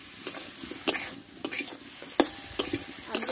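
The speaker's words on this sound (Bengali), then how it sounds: "এবার কষে রাখা আমি আলুগুলো এতে দিয়ে দেবো।" Potatoes fry in a pan of spice paste as they are stirred. A soft steady sizzle runs underneath, and the spoon scrapes and clatters against the pan at an irregular pace, close up.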